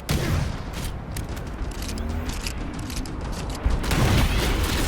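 Gunfire crackles in a Halo: Campaign Evolved battle, dense fusillade-like bursts and booms running steadily through the whole stretch, louder toward the end.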